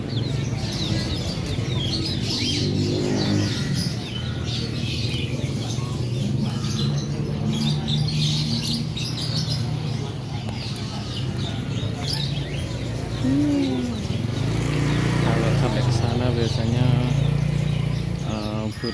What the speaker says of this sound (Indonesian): burung kicauan untuk yang sebelah barat ini biasanya khusus merpati ya